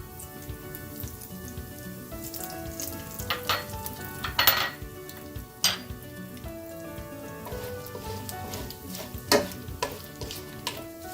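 Whole cashews and cumin seeds fry in ghee with a soft, steady crackle and sizzle, punctuated by scattered pops and occasional stirring scrapes of a utensil in the pan.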